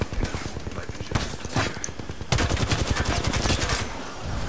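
Gunfire in a shooter video game, dense rapid bursts aimed at the player, loud and continuous throughout, growing heavier in the second half, with some faint background voice mixed in.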